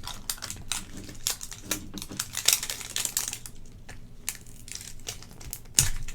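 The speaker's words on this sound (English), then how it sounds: "Make sure you tear along this dotted line." Plastic-and-paper toy packaging for a Stitch mystery figure is torn and crinkled up close in a run of sharp, irregular crackles and rips, with a louder crunch near the end.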